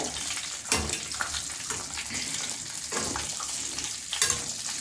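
KFC-style chicken deep-frying in oil on low heat gives a steady bubbling sizzle, with occasional bursts of louder crackle as pieces are moved, close and continuous with no voices.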